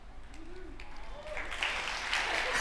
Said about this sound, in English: Katie gets the applause